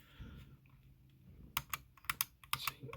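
Sharp, close mouse-button clicks from the repaired middle switch of a Logitech G502, about eight crisp clicks in an uneven rhythm over the last half, after quieter handling noise.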